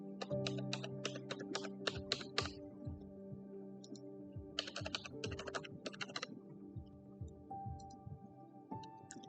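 A password is typed on a computer keyboard in bursts of quick, close key clicks, with a pause and scattered single taps, over a steady low hum and no speech.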